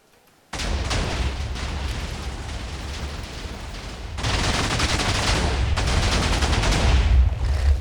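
TNT cannon blasts go off in Minecraft: a sudden loud explosive roar starts after a moment of silence, then fresh bursts of rumbling detonations hit twice more, building into a continuous, heavy barrage.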